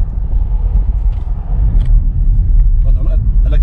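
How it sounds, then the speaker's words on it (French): Car juddering while driving through the desert, a heavy, close low rumble with uneven shudder, with people talking over it. "Mais la voiture, elle broute."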